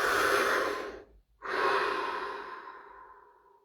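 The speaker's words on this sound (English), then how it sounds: "Deep breath." A single deep breath drawn in and let out close to the mic, a long airy inhale, a brief pause, then a slow, fading exhale, with no talking.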